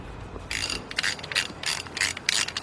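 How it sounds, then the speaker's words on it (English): A 1/2-inch drive ratchet with a reducer to 3/8 tightens an engine bolt on a 2003 Nissan Maxima GLE 3.5 V6 during a partial engine rebuild, giving several quick bursts of crisp pawl clicking, close and fairly loud. "now got the big 1/2-inch drive ratchet here, and got a reducer down to the 1/2-inch down to 3/8, and I got my B14"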